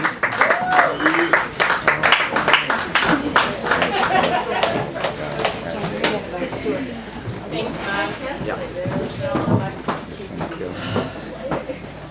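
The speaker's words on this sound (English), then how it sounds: "Let's have a big round of applause for Hannah Walker Finney" A crowd at a poetry reading claps and cheers in a burst of applause, with voices and whoops mixed into the dense patter of hands.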